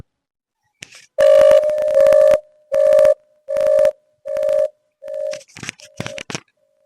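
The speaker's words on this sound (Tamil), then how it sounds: "சத்யாவோட ஃபோன் பண்ணுறாளே" A phone rings with six evenly spaced electronic tone bursts, followed by a few quick rustling clicks as it is handled.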